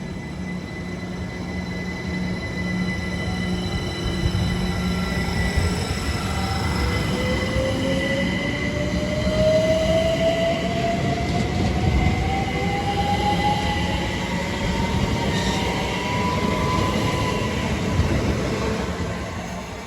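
Great Western Railway train from London Paddington to Didcot Parkway pulling out of Pangbourne station on the Great Western Main Line, a loud continuous rumble of wheels and carriages with a rising electric whine and faint wheel squeal, steady throughout.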